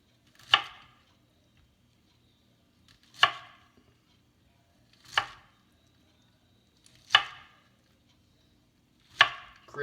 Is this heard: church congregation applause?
no